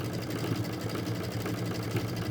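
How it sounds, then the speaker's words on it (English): A sewing machine stitches fabric in a fast, even mechanical whir with rapid rhythmic needle pulses, running continuously and close up with no voices. "Keep sewing."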